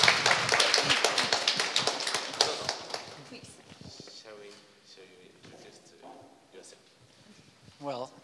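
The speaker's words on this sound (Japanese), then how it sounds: "拍手。" Audience applause in a gallery setting at an artist talk for a sculptor, a dense burst of clapping for about three seconds that tapers off into scattered claps and soft room sounds, with a brief voice at the end.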